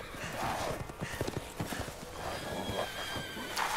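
Horses whinny and neigh over clip-clopping hooves in the video game Resident Evil Village, moderately loud with repeated hoof strikes and calls.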